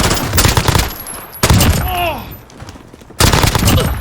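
Rapid bursts from a P90 submachine gun in Call of Duty: Modern Warfare, loud and close, with two long automatic volleys separated by a quieter gap with a brief tonal sweep.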